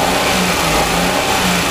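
A used car's engine revs hard on a shop lot, a loud, continuous mid-pitched roar held close to the microphone for the whole short stretch.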